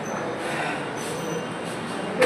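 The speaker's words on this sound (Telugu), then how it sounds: "మళ్ళీ ట్రైన్ జర్నీ" A passenger train rolls along rails with a continuous rumbling, rushing noise heard from inside, steady and moderately loud, with a faint high squeal and a brief clatter at the end.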